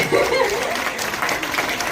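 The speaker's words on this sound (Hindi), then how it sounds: "इस पर एक बार सदन झूम कर तालियां बजा दे" Applause from the audience at a Women's Day poetry gathering swells briefly in a hall, mixed with a voice carrying over it.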